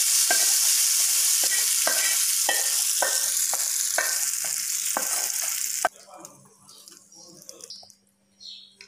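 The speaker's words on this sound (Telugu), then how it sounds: "పోపు వేగిపోయిందండి, వేసేసుకుందాం మనం పచ్చళ్ళు" A tempering with turmeric sizzles loudly under rhythmic spoon-stirring clicks, then the ground mango chutney (mamidikaya roti pachadi) goes in and the hiss suddenly collapses into soft, muffled stirring.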